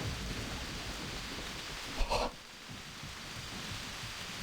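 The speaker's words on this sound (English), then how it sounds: "These are some of the best rain effects I've seen." Steady rain in the game Warhammer 40,000: Eisenhorn - Xenos, a soft, continuous hiss of falling drops with a brief louder burst midway before settling back to a quieter patter.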